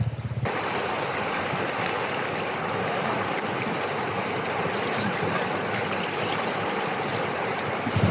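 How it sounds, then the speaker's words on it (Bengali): Strong river current at Jaflong in Sylhet, a loud, steady rush of water close by, continuous and unbroken. "দেখেন এই নদীটার কত স্রোত"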